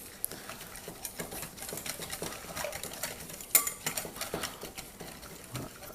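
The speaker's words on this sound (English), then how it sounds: "Whisk it." A whisk works milk into potato batter in a bowl, giving a steady run of quick, close, light metallic clicks and scrapes with no talk.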